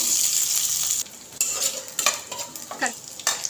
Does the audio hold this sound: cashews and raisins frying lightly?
yes